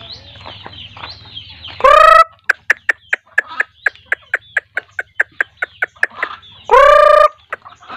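Native chickens cluck close by at a feeding, with a quick, evenly spaced string of sharp clucks, framed by two loud, drawn-out squawks or crowing calls.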